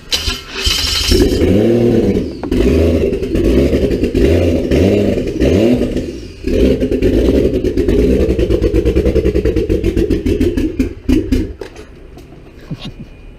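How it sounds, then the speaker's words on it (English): A Toyota 1JZ engine, freshly swapped and slightly smoky from its turbo, cranks with a stuttering clatter, catches, and settles into a loud, steady idle with a brief rev dip midway, close up and with no talking. "That is a running 1JZ, and it sounds pretty good, honestly."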